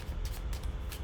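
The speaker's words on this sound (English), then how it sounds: "I shuffle, keeping the key card on the bottom" A deck of playing cards is shuffled during a card trick, giving a quick run of soft papery riffling bursts over a low steady background hum.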